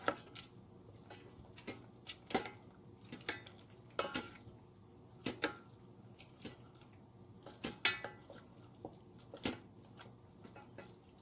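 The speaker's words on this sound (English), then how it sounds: "Now mix the butter with the roasted onions, garlic, and tomato." Butter is mixed with roasted onions, garlic and tomato in a pan, making soft repeated clinks and scrapes of a utensil at an irregular rhythm over a faint sizzle, fairly quiet throughout.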